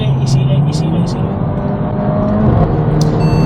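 A Mercedes-AMG A45 accelerating hard, its engine a loud sustained roar inside the car, with people talking over it throughout.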